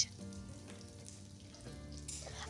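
Chopped onion dropped into hot mustard oil with nigella seeds, a faint, steady sizzle and crackle of frying in a pan with soft background hum.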